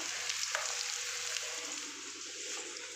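Food frying in a pan gives off a steady, close sizzle with a faint crackle, continuous and alone without talk.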